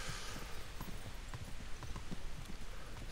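Horse hooves clip-clopping during riding in the video game Kingdom Come: Deliverance, a steady soft rhythm of hoofbeats under a faint hiss of outdoor ambience, fairly quiet throughout.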